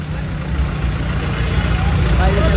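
A tractor engine runs at the Red Fort grounds in Delhi with a loud, steady low rumble that continues throughout, mixed with crowd chatter nearby.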